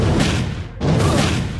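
Heavy booming blasts from a fire-rain shot in a video game, two dense roaring bursts separated by a brief dip, loud and close with no talking.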